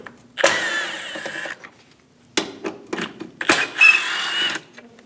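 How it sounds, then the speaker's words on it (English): A power driver with a T25 Torx bit backs out two screws from a 2001-2006 Chevrolet Silverado 2500 HD headlight bracket, heard as two close whirring bursts separated by a pause, followed by shorter buzzing spurts. "Using a T25, remove the 2 screws."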